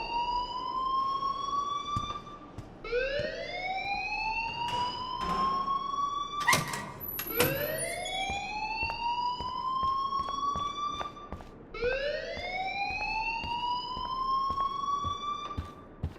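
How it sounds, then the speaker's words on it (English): Loud wailing alarm inside the Life Is Strange video game, rising siren sweeps that repeat in cycles of about four seconds, sounding alone with a few sharp clanks between sweeps. "please turn off that alarm since that's your job"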